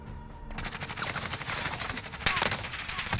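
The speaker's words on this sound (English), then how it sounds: "Oh, I'm getting shot from behind." Gunfire in Call of Duty Warzone, Modern Warfare, comes as a dense continuous stream of rapid shots with a sharper, louder burst near the end, mixed with in-game sound effects.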